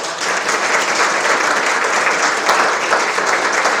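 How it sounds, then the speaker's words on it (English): Audience at an indoor gathering breaks into loud, continuous applause, a dense, steady roar of clapping with no break. "let's give her a round of applause"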